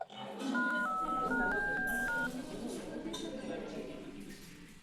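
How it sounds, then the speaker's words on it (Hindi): Phone keypad beeps as a number is dialed to call an uncle, a short run of stepped electronic tones in the first couple of seconds, heard under background chatter and room clatter. "अंकल को फोन करता हूं।"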